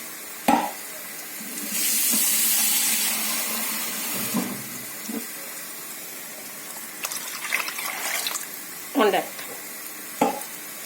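About 1.5 cups of water gush steadily into a pot of lentils for sambar for a couple of seconds, followed by scattered clinks and stirring sounds of kitchen utensils.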